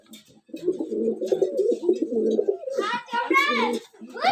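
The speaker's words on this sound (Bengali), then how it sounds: "ছোট্ট একটি খামার, আমার অল্প কয়েকটি জোড়া কবিতর।" King pigeons in a small loft make deep, rolling coos close to the microphone, a continuous stream of throaty notes. A person talks over the later part.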